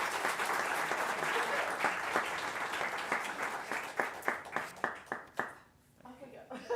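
Church congregation applauding during a Sunday service, a dense sustained wash of clapping that thins into a few louder individual claps before fading out, with voices faintly underneath.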